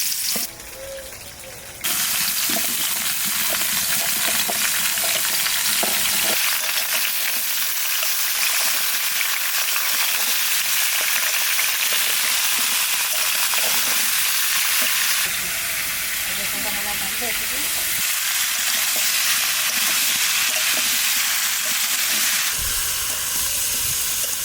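Vegetables including cauliflower fry in oil in a pan for rainy-day khichuri, giving a loud continuous sizzle and hiss with occasional stirring scrapes, and a brief quieter moment at the start.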